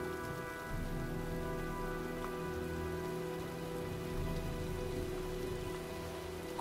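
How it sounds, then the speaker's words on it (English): A rainstorm in the PS4 game Heavy Rain gives a steady, dense downpour hiss with low rumbling underneath, continuous and even throughout, with no talking. "Well, looks like a storm's coming."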